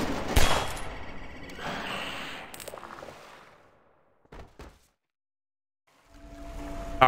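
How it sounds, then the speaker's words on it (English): Pistol shots in the Half-Life 2 VR video game fire at a lock in a few quick bursts. A couple of sharp, distinct cracks follow in an otherwise quiet stretch, and muffled ambient rumble fades in after. "Let's shoot out the lock."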